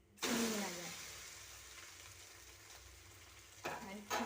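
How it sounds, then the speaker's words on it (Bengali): Maggi omelette frying in oil in a pan gives a loud, steady sizzle that swells at the start, settles into a constant hiss, then flares in two short bursts near the end. "তেল দিয়ে ভালো করে দুই দিক ফ্রাই করে নিতে হবে।"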